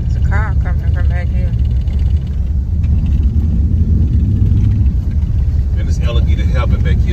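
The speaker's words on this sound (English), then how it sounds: "It's a car coming from back" A car on a roadside along the Tamiami Trail in alligator country, its low continuous rumble steady throughout and close by, with someone talking over it.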